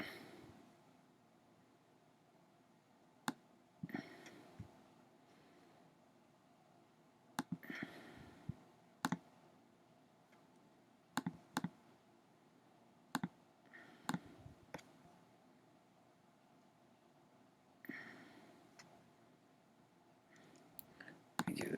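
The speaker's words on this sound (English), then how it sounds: "Double click." A computer mouse clicks in quiet, faint bursts of single and double clicks spread irregularly across a near-silent room, with soft breathing between them.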